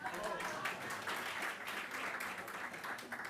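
An audience at an academic forum workshop gives faint, distant applause as a continuous, even patter of many hands clapping.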